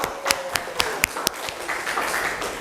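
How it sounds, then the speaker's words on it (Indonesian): Light applause from a hospitality classroom for a student group, a handful of sharp individual claps at an uneven rhythm, fairly close and thin rather than a full crowd. "tepuk tangan dulu untuk kelompoknya Rasya."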